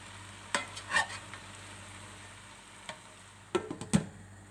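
Peppers being stirred in a pot to keep them from sticking while making tarhana, a few scattered spoon scrapes and knocks over a soft low sizzle, with a cluster of louder clanks near the end.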